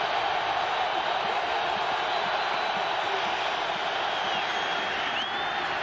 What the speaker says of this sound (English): here comes the Buffalo crowd